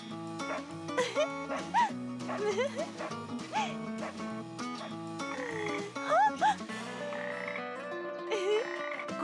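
In a puppet show, a voice imitates frog croaking with repeated short, wavering calls over a busy musical background, fairly loud and close.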